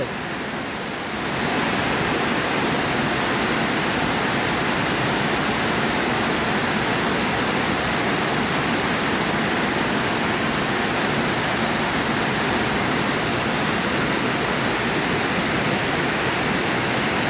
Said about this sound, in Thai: ฝนแรงนะ